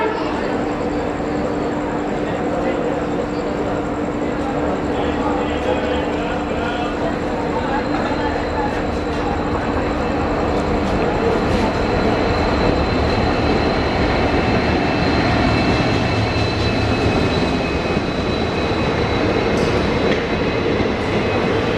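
An Indian Railways train hauled by an EMD diesel locomotive, a continuous loud rumble of rolling wheels and engine drone with rhythmic rail clatter, while someone talks over it.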